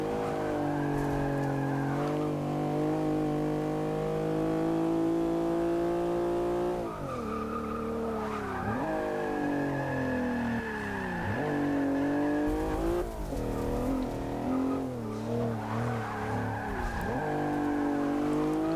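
A race car from the Logitech G Car Pack in Forza Motorsport 6 laps a track, its engine droning loud and steady with rising and falling revs, gear shifts and tire squeals through corners, and no talking.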